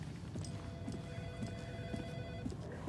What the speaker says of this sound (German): Bitte mal jemand an das Telefon gehen.